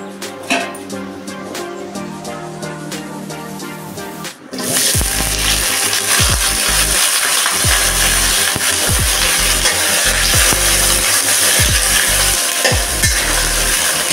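Potatoes and young jackfruit fry in hot oil in a wok, starting with a brief quieter moment before a loud, steady sizzle takes over, broken by scraping stirs and clanks.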